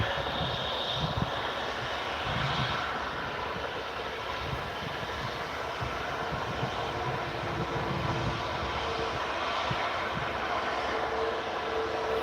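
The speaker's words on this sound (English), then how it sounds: "just arriving a Ryanair 737" A Ryanair Boeing 737 arriving at Manchester Airport, its jet engines a steady, broad roar heard from a distance that holds evenly throughout with no voices over it.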